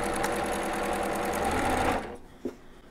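Sewing machine stitching jelly roll quilt strips, a loud steady rapid whir for about two seconds that then stops, leaving a brief soft clack and a quiet room.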